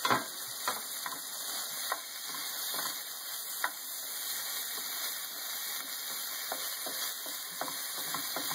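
Mushrooms and chicken fry in olive oil and butter in a pan, a steady bright sizzle with occasional soft clicks and scrapes of stirring, close and continuous, with no talking.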